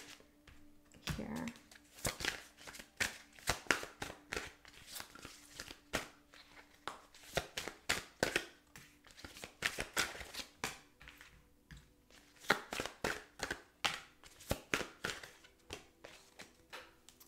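Tarot cards shuffled and handled up close, soft rapid riffling and tapping in a long irregular series of quiet bursts, with no talking.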